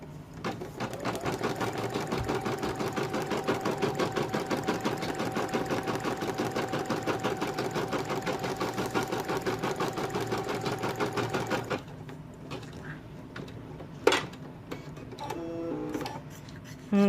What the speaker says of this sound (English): It's going to do a placement stitch.